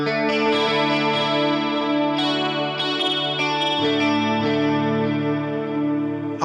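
Guitar through the chorus effect of an M-Vave Blackbox, a steady, sustained, shimmering wash of held chords with a few fresh strums over it, continuous and fairly loud.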